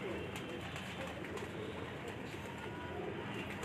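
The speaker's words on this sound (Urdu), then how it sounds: "یہ کالے منہ والا کبوتر ہے پرانا" An old black-faced pigeon kept by a pigeon fancier in Sialkot coos softly beneath a steady, broadband background hiss.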